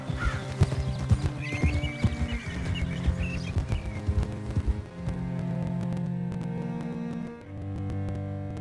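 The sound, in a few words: horse hooves and whinny, from video game Red Dead Redemption 2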